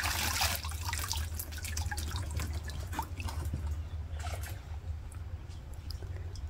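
Water drains steadily out of a large tilapia tank, a continuous trickling and splashing flow with scattered drips, close and moderately loud, no talk.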